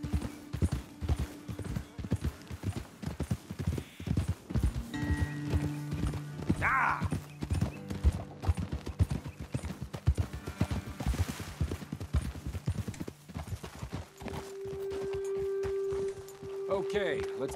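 In Red Dead Redemption 2, horses trot and gallop with rapid, rhythmic clip-clop of hooves on dirt, a brief whinny and snorts mixed in, while characters talk and music plays over them.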